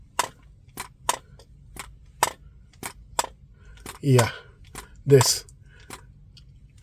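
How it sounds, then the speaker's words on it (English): Viltrox 135mm f/1.8 lens being shaken, its linear focus motor rattling in a quick series of close, clicky bursts, followed by two louder handling knocks and a few more rattles; one short spoken word. "It makes a lot of noise when you shake it."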